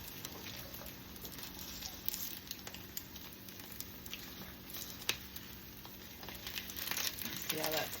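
Dipped eggs frying in a HexClad pan, giving a faint, steady sizzle and soft crackle under a quiet hiss, heard close with nothing else prominent.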